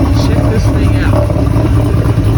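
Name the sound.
Volvo 242 car engine and exhaust revving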